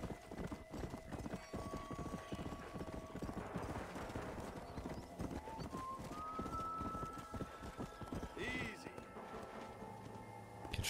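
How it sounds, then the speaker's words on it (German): Horse hooves clip-clopping at a gallop in the Red Dead Redemption: Undead Nightmare video game, a steady rapid rhythm under game music and ambience, with a brief whinny late in the clip. "Ich hätte da ein zweites Set Hufe gehört."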